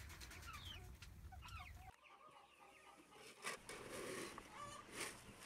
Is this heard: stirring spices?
no